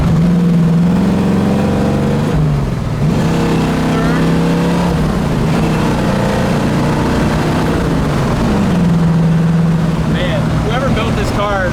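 A 1973 Ford Mustang Mach 1 V8 accelerating hard on a highway, a loud close engine roar with rising pitch sweeps through the gears over nearly twelve seconds, with someone talking over it.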